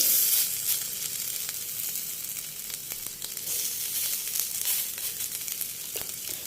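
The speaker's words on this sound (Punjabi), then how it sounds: "ਟਿੱਕੀਆਂ ਬਣਾਈਆਂ ਸੀਗੀਆਂ ਇੱਕ ਇੱਕ ਕਰਕੇ ਤਵੇ ਦੇ ਉੱਤੇ ਦੋਨਾਂ ਸਾਈਡਾਂ ਤੋਂ ਸੇਕਾਂਗੇ" Soya tikkis sizzle in hot oil on a tawa, giving a close, loud crackling hiss with small pops and bursts throughout. No one speaks.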